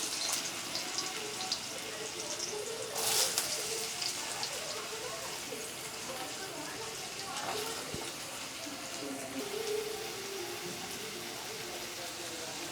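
Small potato pieces fry in hot mustard oil with cumin in a wok, a steady close hiss and crackle with a couple of brief louder spatters.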